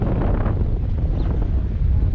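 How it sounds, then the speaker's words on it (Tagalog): Strong wind at sea under dark clouds buffets the microphone in a steady, loud roar with deep rumbling gusts, continuous throughout with no voices. "Lakas ng hangin yan."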